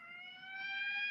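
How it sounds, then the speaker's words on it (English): A wailing siren from the old film Plan 9 From Outer Space, a steady harmonic tone that swells slightly louder as it goes on, heard alone without talk. "That's the fifth siren in the last hour."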